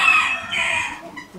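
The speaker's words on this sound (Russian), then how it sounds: "Это золотой фазан" A golden pheasant of the pale yellow form calls in a bird park, a loud, close, harsh rising call lasting about a second, then fading.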